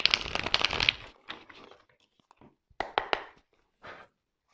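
Tarot cards being shuffled by hand, a few quick papery riffles and crinkles in short bursts, close and fairly soft, with brief pauses between.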